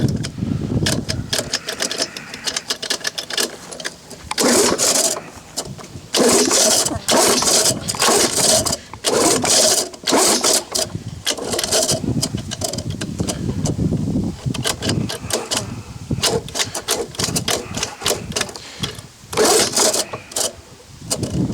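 An old Lawnboy 19 lawn mower engine is pull-started by hand, with repeated loud, sputtering bursts as it catches and briefly runs, broken by short pauses between pulls, close by.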